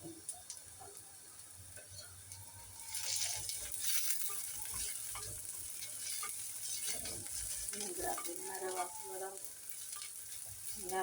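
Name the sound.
sautéing in a clay pot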